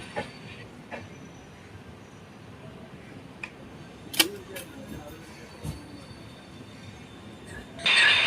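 Aboard the Ernakulam–Velankanni Express, a low, even rolling rumble carries on with scattered faint clicks and knocks from the rails, and a sharper rattle near the end.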